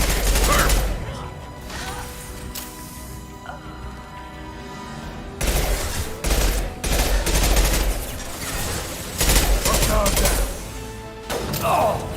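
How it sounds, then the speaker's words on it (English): Gunfire and a concussive shot from the video game Mass Effect 2: repeated loud bursts of weapon fire and heavy impacts in clustered volleys, with quieter gaps between, over a constant game soundscape. "Firing concussive shot!"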